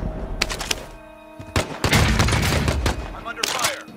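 Gunfire in the Call of Duty Warzone video game on PS5: loud bursts of rapid automatic fire and scattered shots, with a sustained fusillade through the middle and dull impacts.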